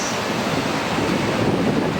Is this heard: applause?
no